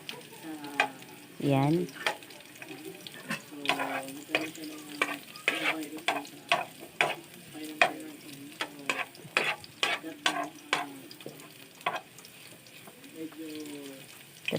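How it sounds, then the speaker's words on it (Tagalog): Garlic sautés in hot oil for chicken intestines, with a constant sizzle under repeated scraping strokes of a spatula stirring the pan, close and clear, while a person talks briefly. "Gisa muna tayo ng bawang."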